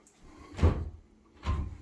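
Two linen closet doors in a house's main-floor hallway are pulled open one after the other, each giving a soft, close wooden thud and rattle.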